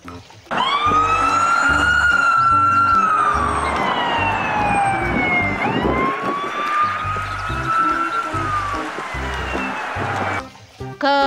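A toy police car's electronic siren wails loud and close, rising and falling in long sweeping tones for several seconds, alone with no talk.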